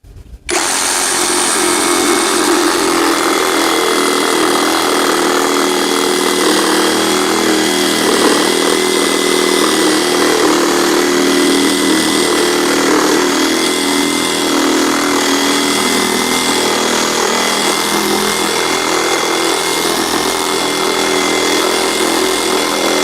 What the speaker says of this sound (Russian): давайте вот этот вот толстезный кусман отпилим